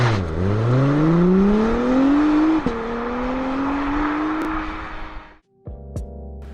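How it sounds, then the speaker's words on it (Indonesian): A second-generation Honda NSX with a hybrid V6 hums loudly and rises in pitch as it accelerates, dipping briefly at a gear change before climbing again, then cutting off abruptly and leaving a lower, fainter drone. "Dengan V6 hybrid lagi, mobil ini hanya memiliki suara mendengung layaknya mobil semi supercar."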